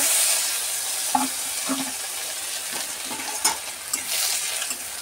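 Bay leaves and ginger frying in oil for lentil khichuri, a steady close sizzle with a few brief stirring scrapes and clinks scattered through, no voices.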